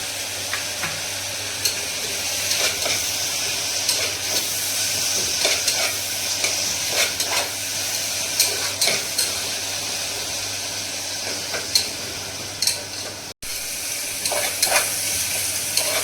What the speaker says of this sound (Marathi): त्याला आपण बारीक केलेली आलं लसूण पेस्ट टाकून घेतोय।